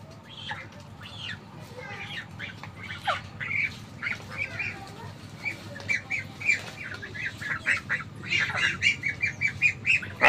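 Ducks and geese squawk at a rural home after days of heavy rain. Their sharp, overlapping calls come close and grow denser and louder toward the end, with faint voices underneath.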